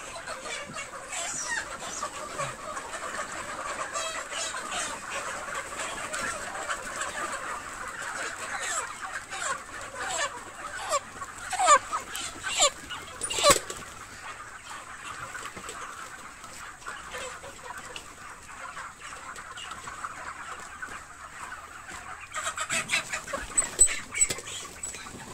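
A flock of 37-day-old broiler chickens clucks and murmurs continuously, with occasional louder squawks rising above the busy background chatter.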